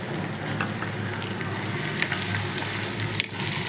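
Slit green chillies and curry leaves sizzle in hot tempering oil for coconut rice: a loud, continuous close-up crackle with brief sharper pops and no talking.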